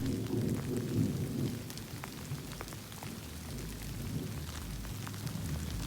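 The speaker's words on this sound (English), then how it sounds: "it's raining again" Rain falling steadily outdoors along a hiking trail in Washington, a soft continuous hiss with scattered drop taps and a low rumble early on, fairly faint and without talk.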